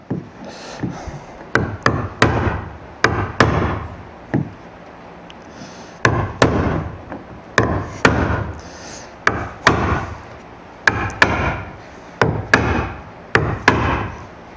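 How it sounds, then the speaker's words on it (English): A wood chisel is struck repeatedly into a thin HDPE thermoformed Sun Dolphin kayak hull, giving sharp, close knocks in irregular bursts with short pauses between clusters of hits. "I'm going to use my wood chisel here."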